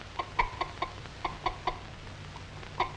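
A hen clucks in a series of short, sharp notes, spaced irregularly and fairly close, against a quiet background.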